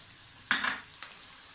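Garlic ginger paste hitting hot oil in a pan for a mixed vegetable dish, a sudden burst of sizzling that fades within a fraction of a second, followed by a second brief crackle.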